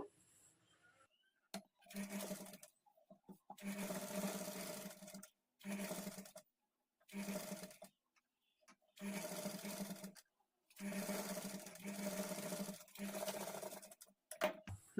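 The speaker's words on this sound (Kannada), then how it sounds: "ಈ ಪೈಪಿಂಗ್ ಪಕ್ಕದಲ್ಲೇ ಇನ್ನೊಂದು ಟಾಪ್ ಸ್ಟಿಚ್ ಹಾಕ್ಕೊಳ್ಬೇಕು" A sewing machine runs a top-stitch along blouse lining right beside the piping on a princess-cut padded blouse, in six or seven short, even bursts of humming stitching separated by silent gaps, quiet and close.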